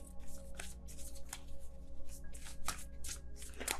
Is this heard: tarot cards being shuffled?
yes